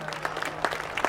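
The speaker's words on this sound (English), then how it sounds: "Can you give him a round of applause now?" Airshow crowd at Farnborough applauding a Red Devils parachute display team member, a short burst of scattered clapping heard from a distance.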